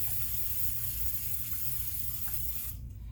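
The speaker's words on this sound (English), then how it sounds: "So I'm just going to go over the sink real quick and give my tray a super fast spray." A pump-pressurized kitchen spritzer sprays oil onto an air fryer tray over a sink, one continuous close hiss lasting a few seconds before cutting off.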